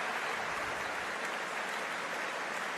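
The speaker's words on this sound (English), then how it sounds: "A warm round of applause from this big Coventry Stadium crowd here" A big stadium crowd at Coventry Stadium applauds a Commonwealth Games men's rugby sevens match, with dense, steady clapping that fills the whole stretch at an even, moderate level and no voices standing out.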